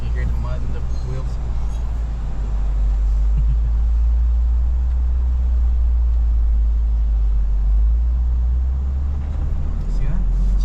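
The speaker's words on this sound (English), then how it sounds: "Can you hear the mud in the wheels?" A Lexus GX550 drives through mud, its wheels and engine making a steady, heavy low rumble that runs the whole time under people talking.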